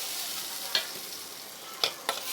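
Tomato and dried red chillies frying in a pan over a low flame, a steady soft sizzle broken by a few sharp spatula scrapes and clicks.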